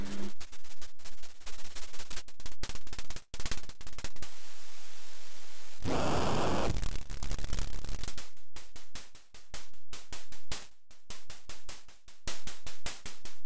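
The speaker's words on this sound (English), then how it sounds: "White noise, red noise, pink noise," A modular synth noise generator produces harsh hissing static and coloured noise in chopped, stuttering bursts, with a longer steady roar near the middle, loud and up close.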